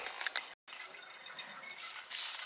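Water keeps running in a toilet tank after a flush because of a worn flush valve gasket. A steady close hiss of trickling water continues the whole time, broken only by a brief dropout, with no talking.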